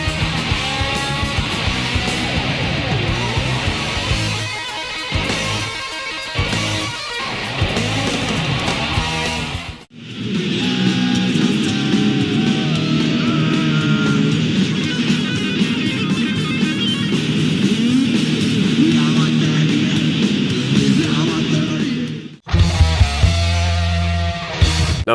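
A guitarist plays a tapping, hammer-on guitar lead, with busy full-band rock under it, dropping out near ten seconds and again near the end.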